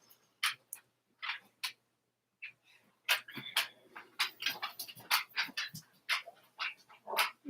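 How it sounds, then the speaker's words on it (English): A dog's claws click and tap on a hard floor as it walks away, an irregular run of quick ticks at close range that grows busier toward the end, with no talk. "My dog sounds like Riverdance when he walks away."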